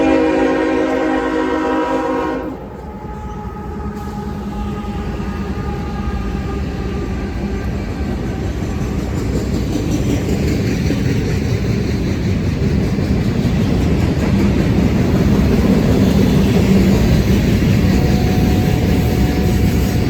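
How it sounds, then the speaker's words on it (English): Northbound manifest freight train Q542, led by two AC4400 locomotives and a DC GEVO in downtown Cartersville, sounds a loud horn blast, then gives way to a heavy, building rumble and clatter of rolling cars passing close by. "the train that I'd be set up for would be northbound manifest Q542 with 2 YN2 AC 4400s and a DC GEVO at the head end"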